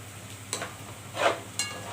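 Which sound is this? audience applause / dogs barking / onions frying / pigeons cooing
onions frying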